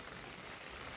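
Unseasonal rain falls in Sindhudurg on the Konkan coast, a soft, dense, even hiss with no voices, steady throughout.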